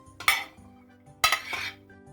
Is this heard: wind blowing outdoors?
no